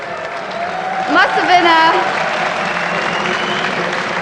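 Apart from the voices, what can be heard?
crowd in the event hall applauding and cheering for EG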